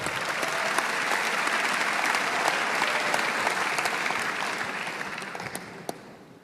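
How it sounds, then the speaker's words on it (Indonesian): Sustained applause from a large audience of IPDN cadets fills a hall, dense and steady clapping that swells, holds, then slowly tapers with a few scattered claps near the end. "Tepuk tangan sekali lagi untuk IPDN."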